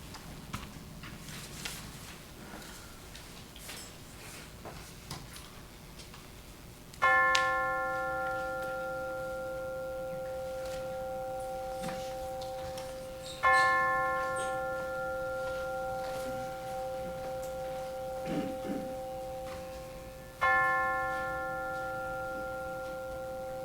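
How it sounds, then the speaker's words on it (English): Chimes ring during a church service: three clear, resonant strikes spaced several seconds apart, each sustaining a bright tone that slowly fades into a quiet room. "let's center our hearts and minds with the ringing of the chimes"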